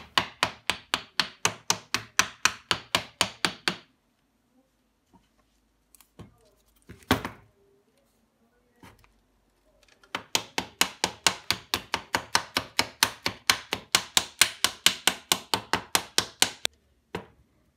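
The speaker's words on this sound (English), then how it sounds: "place the transformer on a flat surface and hammer all the laminations flat using" Rapid, even taps of a wooden or rubber mallet hammering transformer laminations flat on a flat surface, in two long bursts separated by a quiet pause with a few scattered knocks.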